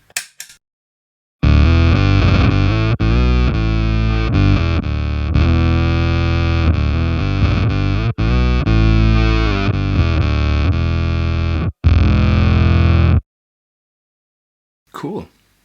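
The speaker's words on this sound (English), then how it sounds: "this is Electro-Harmonix Micro Synth" A bass guitar played through an Electro-Harmonix Micro Synth pedal gives loud, thick, distorted synth-like notes in long sustained phrases with brief gaps, framed by short quiet moments at the start and end.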